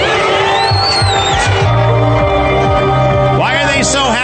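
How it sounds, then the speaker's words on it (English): A large crowd screams and cheers in happiness, a dense roar of voices with rising whoops and shrieks that swell loudly throughout. "Crowd screaming in happiness."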